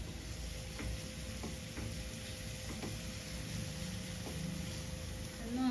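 Ingredients sauté in a pan for a tasty side dish, giving a soft continuous sizzle with faint periodic scrapes of a spoon stirring, quiet and close, with no talking.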